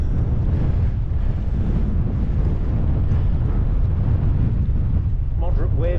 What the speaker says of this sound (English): Moderate waves on the dam.